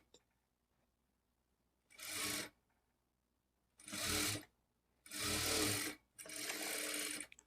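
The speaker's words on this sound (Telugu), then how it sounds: "1/2 ఇంచ్ మార్జిన్తో స్టిచ్ చేసుకోవాలి" A sewing machine stitches blouse fabric with a half-inch margin in four separate runs, each a loud, close whirring burst of rapid needle strokes separated by quiet pauses.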